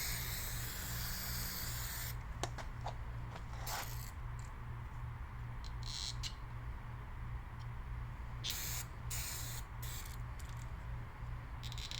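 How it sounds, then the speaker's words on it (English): Steady low hum with several short bursts of aerosol paint stripper spraying from a can, some quick hisses and a few longer sprays, fairly close and moderate in volume. "Spray can paint stripper."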